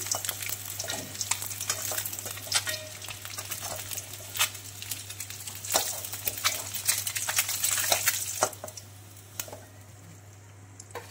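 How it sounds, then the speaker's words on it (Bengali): Boiled duck eggs coloured with turmeric fry in a pan, a close steady sizzle with frequent sharp ticks and pops as a spoon stirs and scrapes, quieting toward the end. "এবার একটু ভেজে নিয়ে আমি তারপরে তুলে নেবো এগুলো ভেজে।"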